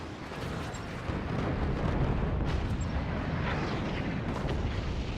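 A missile volley erupts in a strategy video game as a dense, continuous roar of overlapping blasts, loud and sustained throughout with no voices.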